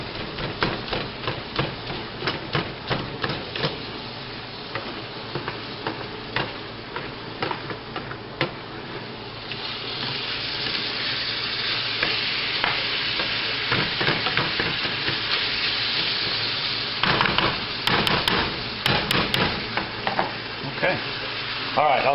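Ground chili meat sizzles and fries in a pan while a chopper repeatedly strikes and breaks it up, sharp clacks and scrapes over a steady close sizzle, with no talking.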